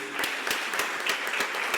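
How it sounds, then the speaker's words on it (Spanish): An audience at an academic panel event applauds, dense steady clapping from a crowd heard fairly close with no voices. "quisiera darle un aplauso a los que estén aquí todavía de ese equipo"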